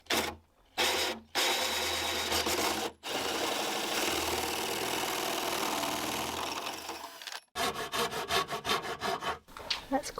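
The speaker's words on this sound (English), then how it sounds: "is to drill this hole on the back of this plastic" A power drill bores a hole through the back of a plastic box, running in long whining bursts separated by short pauses and ending in rapid stop-start pulses.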